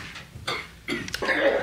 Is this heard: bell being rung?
no